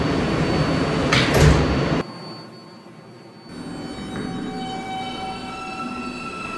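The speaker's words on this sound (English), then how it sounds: "Stand clear of the closing doors" In a Roblox subway game, a loud burst of rushing and clattering as the doors close, then a sudden drop to near quiet before a steady rumbling hum and faint whine build as the train pulls away.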